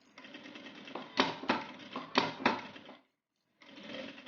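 A sewing machine stitches around the edge of a fabric phone wallet in quick bursts of rapid rhythmic clatter, close and clear, with a brief pause before it runs again.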